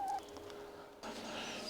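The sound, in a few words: chickens clucking in a garden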